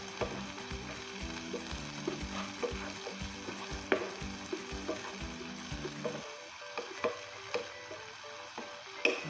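Ham and eggs frying in a pan for burritos, a steady soft sizzle under repeated rhythmic scraping and clinking as a utensil stirs them; the stirring stops partway while the sizzle continues.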